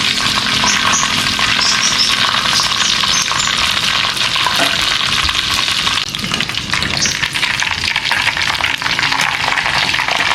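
Chicken and tofu frying in hot oil, a steady dense sizzle with crackling bubbles that holds loud and close throughout, without talk.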